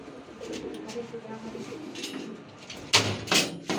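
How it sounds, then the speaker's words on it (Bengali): Pigeons coo softly and repeatedly inside a pigeon loft, a low steady murmur of calls near at hand, with a few sharp knocks or rustles toward the end. "এই যে কিছু কবুতর থরে দিছে"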